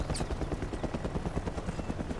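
Helicopter in the Mercenaries 2 video game, struck by falling trees: a steady, close rotor thrum with rhythmic chopping pulses throughout, mixed with crashing impact noise.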